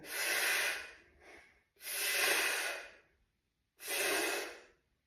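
Three long, forceful breaths from a staged breathing exercise, each an airy, hissing rush lasting about a second, separated by short pauses, close and clear with no speech.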